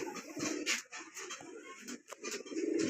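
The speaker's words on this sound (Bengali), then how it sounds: "এখানে আছে আমার বাসার একবারে ডাইরেক্ট মেন কবুতরগুলো রেস্টে" Soft, low coos from domestic pigeons resting in a home loft repeat over a busy background of light taps and rustles, fairly close and moderately loud.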